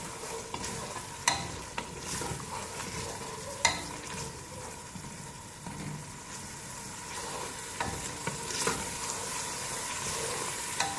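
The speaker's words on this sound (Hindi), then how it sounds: "टीस्पून हम दही ऐड करेंगे और थोड़ी देर के लिए इसको भूनेंगे" Potato and aubergine masala fries with added yogurt in a pan, giving a quiet, steady sizzle broken by repeated sharp clacks and scrapes of a spoon stirring close by.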